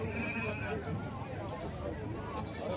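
Sheep and goats at a livestock fair in Tabira, Pernambuco, bleat amid a busy murmur of crowd noise, with a voice talking over the steady market bustle.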